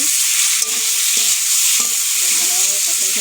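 Garlic and potatoes fry in hot oil in a pan with a steady bright sizzle, while a utensil scrapes and stirs through them in several distinct strokes.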